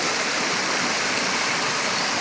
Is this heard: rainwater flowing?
yes